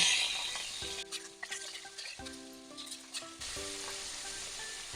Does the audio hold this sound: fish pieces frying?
yes